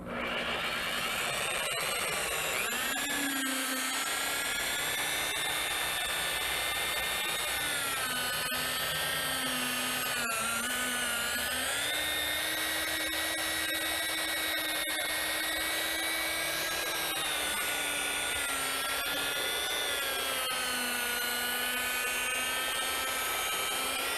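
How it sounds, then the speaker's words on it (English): Buffer polisher spinning with brushes while buffing wax, a steady close whine with slowly wavering pitch that runs continuously and alone throughout. "So I just figured I would do a little buffing."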